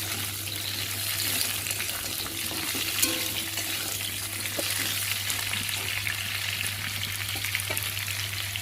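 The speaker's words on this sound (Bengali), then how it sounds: "আলু আর কলাটা বেশ সুন্দর করে লাল লাল করে ভেজে নিয়েছি" Potato and green plantain pieces fry in oil with a steady, close hiss and crackle that runs unbroken throughout, with occasional faint stirring sounds and no voices.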